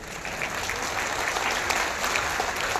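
Audience clapping at a political meeting in Patna, a steady moderate wash of applause from a crowd throughout, without speech over it.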